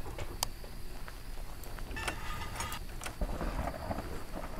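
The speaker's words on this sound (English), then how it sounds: "I guess it is raining." Video game rain hiss with low rumbling thunder underneath and a few sharp crackles, continuous and moderately loud, no voices.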